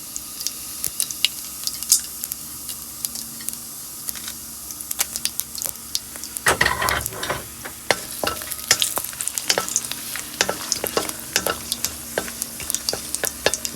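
Cumin seeds, whole garam masala and dried red chillies crackling in hot oil left from frying jackfruit kofta, a dense patter of pops that briefly swells into a louder burst midway, then continues with sharp spits and ladle taps.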